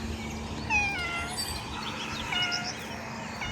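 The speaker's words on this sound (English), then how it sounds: "Guess there's a cat there that needs to be fed." A cat meows a few times at a distance, thin and high, over a steady low hum of background noise.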